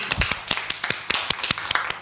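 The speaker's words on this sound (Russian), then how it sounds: "Аплодисменты!" Studio audience clapping for Irina, the heroine of a before-and-after makeover reality show, a small group's uneven claps close by, individual slaps distinct rather than merging into a roar.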